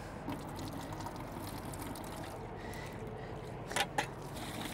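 Water pours and trickles steadily over a truck cabin surface during a rinse, a continuous close splashing wash with a couple of brief louder splashes near the end.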